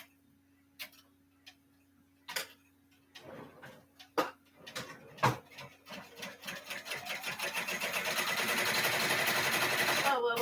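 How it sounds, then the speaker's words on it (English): Sewing machine stitching around the outside of felt pieces, starting with scattered ticks and short bursts, then building into a steady, rapid, continuous stitching run that grows louder toward the end. "now I'm going to put it back in the machine, and it's going to finish its stitch around the outside of them"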